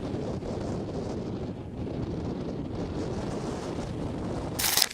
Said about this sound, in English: fierce southwest monsoon winds sweep across the ocean